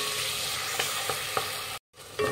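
A spoon stirs Iyengar-style bele rasam with tamarind in a cooking pot, soft scraping strokes over a steady low sizzle, quiet and close, with a brief dropout near the end.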